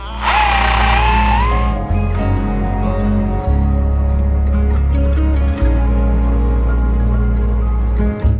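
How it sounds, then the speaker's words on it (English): A power tool drones steadily for several seconds with brief dips in pitch, a continuous mechanical whir up close, opening with a high whine. "I'll also drill one just about in the middle, just to keep it back."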